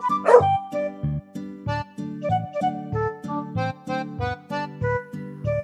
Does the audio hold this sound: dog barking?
yes